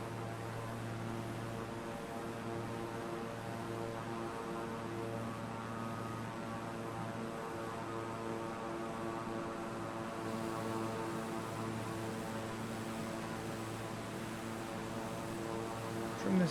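An aircraft flies low over the city of Beirut in Microsoft Flight Simulator 2024, giving a steady, droning engine hum that holds at an even, moderate level throughout without talk.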